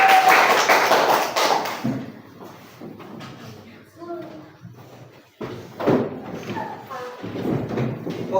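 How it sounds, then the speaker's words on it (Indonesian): A classroom claps for a student group, a short burst of close applause at the start that fades out, followed by scattered taps and thumps with talking. "Tepuk tangan untuk kelompok"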